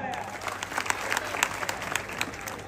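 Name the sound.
crowd applauding at a wrestling ground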